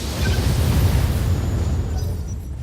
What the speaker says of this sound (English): indirect fire. With our LRMs. Firing on target.